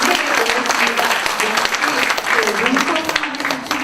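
Audience applause at a book concert in Daegu, a dense, steady clapping from a large crowd filling the whole stretch, with faint voices mixed in underneath.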